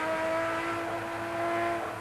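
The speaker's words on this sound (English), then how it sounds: "The Nissan very, very quick into and out of that particular corner." A Nissan touring race car runs through a corner on a wet circuit in a 1988 European championship race, a sustained engine drone with a steady tonal whine, moderately distant and fairly even.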